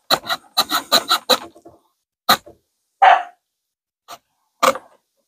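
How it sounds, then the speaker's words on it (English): Dogs barking outdoors while wet vine wood is sawn, several loud, sharp barks in a quick cluster, then scattered single barks and a rasping noise across the stretch. "The dogs is barking."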